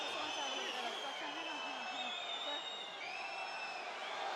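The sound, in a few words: rugby stadium crowd reacting to a try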